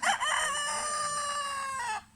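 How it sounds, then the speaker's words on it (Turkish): A rooster crows once, a loud, drawn-out call close by that holds steady for about two seconds before cutting off. "Yakışıklı bir horoz"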